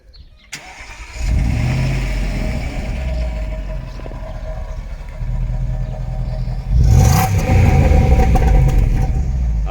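A Jaguar XFR's 510-horsepower supercharged V8 cranks and catches after a short click, then settles into a loud, deep idle and swells into a hard rev near the end, with no voices.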